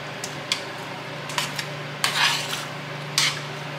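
Spoon stirring corn chowder in a cooking pot on a stovetop, giving a few scattered scrapes and clinks against the metal over a steady low hum, with no talking.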